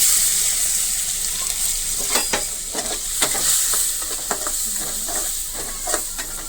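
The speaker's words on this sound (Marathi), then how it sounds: "कांदा मस्त लाल करून घ्यायचा आहे" Finely chopped onion frying in oil with cumin seeds for bhindi fry, a continuous loud sizzle and hiss broken by repeated scraping stir strokes, close up and without talking.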